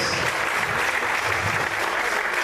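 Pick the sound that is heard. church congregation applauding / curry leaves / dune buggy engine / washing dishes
church congregation applauding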